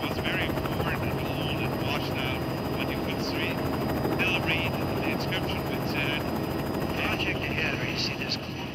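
A helicopter drones steadily nearby with a constant rotor hum, while a voice talks over it.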